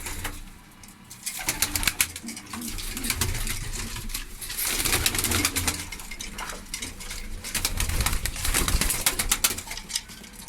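Pigeons in a loft at an Ankara pigeon club, mostly play-breed birds, with soft cooing, shuffling and wing flutters close by, plus scattered clinking knocks, fairly faint and continuous.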